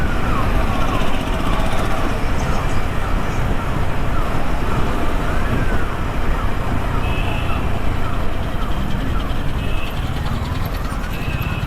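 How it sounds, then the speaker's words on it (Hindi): An ambulance siren wails, rising and falling continuously over heavy traffic noise in Hisar, loud and steady throughout. "एम्बुलेंस आ रही है भाई, रास्ता दे दो"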